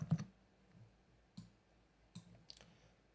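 Quiet computer mouse clicks on a copy button: a soft cluster at the start, then three or four isolated taps spaced apart in a hushed room.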